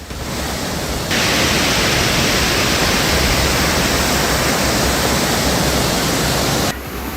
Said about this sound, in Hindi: तस्वीरों में नदी के बहाव का निनाद सुनते ही आप इसका अंदाजा लगा सकते हैं।